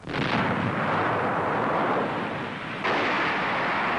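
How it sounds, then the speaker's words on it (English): Howitzers fire in World War II fighting along the Burma Road, with two heavy booming blasts, one at the start and another about three seconds later, each followed by a long rumbling decay on old film audio. "Howitzers, also flown in by air, already are in contact with the enemy."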